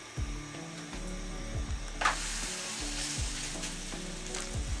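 Chapati frying in oil in a hot pan gives a steady, close sizzle and crackle throughout, with a low rhythmic hum in the background.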